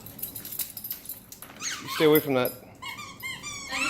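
A dog whimpers with a few high, whiny cries and a low growl, close to the microphone. A person talks over it.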